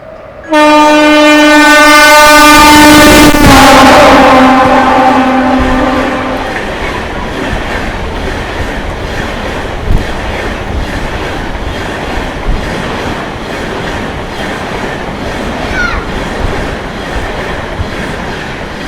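A high-speed train races through Hoodi Halt with a loud, sustained multi-tone horn blast lasting several seconds, followed by the steady roar and rattle of carriages rushing past close by.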